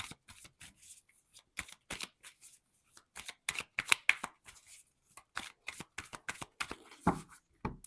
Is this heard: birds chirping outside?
no